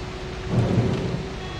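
Rain and a low thunder rumble in the Bus Simulator 18 game, a steady wash of rainfall with a swelling roll of thunder in the middle, loud and close with no talking.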